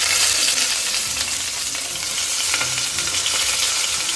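Chopped onion goes into beef liver already frying in a pan, giving a loud, steady, close sizzle with occasional stirring scrapes and no talking.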